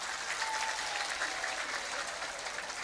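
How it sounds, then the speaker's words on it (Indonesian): An audience at an evening religious gathering applauds steadily, a dense, fairly quiet wash of many hands clapping heard from a distance with no break. "Saya minta tepuk tangan dulu dong."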